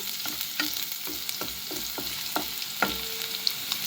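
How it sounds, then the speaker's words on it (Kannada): Chopped green chili and half an onion sauté in a pan, with a spoon clicking and scraping in quick irregular strokes over a faint sizzle, close and quiet. "ಇದನ್ನೆಲ್ಲ ಚೆನ್ನಾಗಿ ಬಾಡ್ಸೋಣ."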